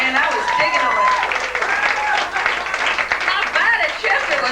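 Audience applause and cheering for a musician at a live club show, a steady dense wash of clapping lasting throughout, with voices and whoops mixed into the crowd noise.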